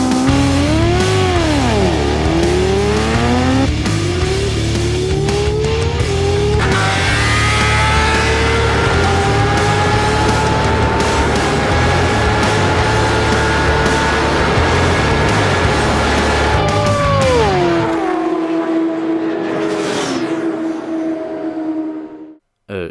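Kawasaki ZX-10R superbike, over 200 horsepower, racing flat out with a loud, close engine that rises in pitch through repeated gear shifts, holds a high scream, then drops away sharply near the end.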